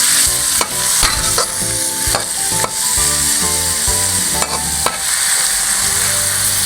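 Loud, close sizzling of pork frying with red chili and curry paste in a hot pan, with repeated scrapes and knocks of a utensil stirring it.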